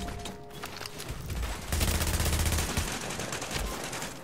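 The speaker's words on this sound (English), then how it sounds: "they're shooting these rogues" Gunfire in the video game Chaos Chronicles comes as dense, rapid bursts of shots aimed at rogues. It is loud and continuous, swelling midway, with no talk over it.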